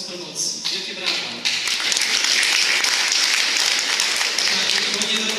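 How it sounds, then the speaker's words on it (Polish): Applause from an audience at a book launch, starting with scattered claps and swelling after a moment into full, dense clapping that holds steady to the end. "Wielkie brawa."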